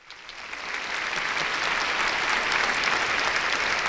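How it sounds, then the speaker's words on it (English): A crowd's applause swells from a light start into steady, sustained clapping, full and fairly close, with no voices over it. "Another pause for applause"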